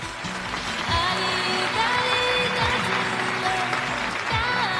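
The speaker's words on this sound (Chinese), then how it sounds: "来，掌声有请" An audience claps as guests are called onstage at a Chinese television job-seeking show, the applause fairly soft and steady under a backdrop of stage music with low repeating tones and a brief brighter swell.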